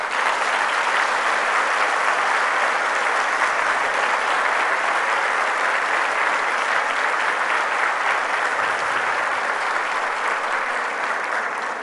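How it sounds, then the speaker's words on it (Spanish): A graduation ceremony audience gives sustained, loud, even applause for the graduates, a dense crowd clapping unbroken with no talk over it. "les pido en este momento les otorguemos un aplauso a ellos"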